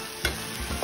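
Food fries in a pan with garlic powder and onion powder as it is stirred, a continuous sizzle broken by a few quick scraping strokes, close and moderately loud.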